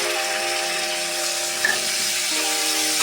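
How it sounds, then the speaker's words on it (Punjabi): Grated onion fries in a hot pan, a steady bright sizzle and hiss running throughout with faint stirring and no voices. "ਪਿਆਜ਼ ਨੂੰ ਵੀ ਅਸੀਂ ਚੰਗੀ ਤਰ੍ਹਾਂ ਭੁੰਨ ਕੇ ਤੇ ਬਰਾਊਨ ਕਰ ਲਾਂਗੇ"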